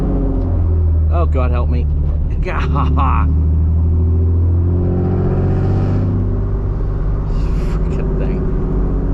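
Modified 1992 Acura NSX driving slowly, its low engine rumble steady and close from inside the cabin while someone talks over it and briefly groans.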